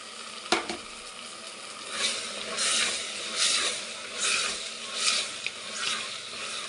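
Chopped bell pepper (capsicum) frying in a pan for a spiced capsicum rice dish, stirred with a spoon. A single sharp clack opens, then a close, steady sizzle swells with about five rhythmic stirring strokes.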